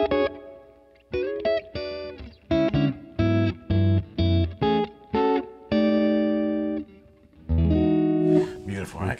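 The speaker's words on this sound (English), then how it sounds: "This is going through our Tone Science Deluxe, which has no reverb on it, so that reverb is all coming from the Strymon pedal." Electric guitar played through a Strymon reverb pedal into a Tone Science Deluxe amp with no reverb of its own, a series of sustained chords and notes with decaying tails and brief gaps between strums.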